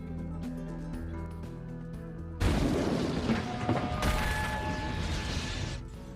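An explosion at a dress shop in the film The Foreigner: quiet tonal music is cut off by a sudden loud blast, and the roar and rumbling debris carry on for several seconds before easing slightly.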